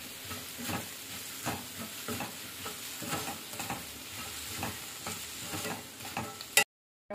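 Ivy gourd curry with crushed cumin and garlic being stirred in a frying pan, a steady close sizzle broken by repeated scraping strokes of a spoon, ending abruptly in silence.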